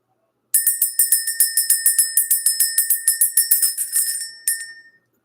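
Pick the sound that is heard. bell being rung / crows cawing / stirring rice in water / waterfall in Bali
bell being rung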